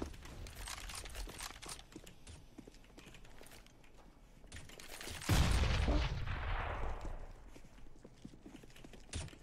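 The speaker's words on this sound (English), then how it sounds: "Throwing flashbang." A flashbang grenade goes off in the battle-royale game PUBG, a sudden loud burst midway that fades slowly, with quick footsteps and faint distant gunfire before and after.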